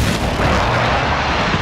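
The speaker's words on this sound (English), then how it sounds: "It's an airstrike, take cover!" Airstrike in a first-person shooter video game: a loud, dense barrage of overlapping booms and blasts rolling continuously, close and heavy, with no voices.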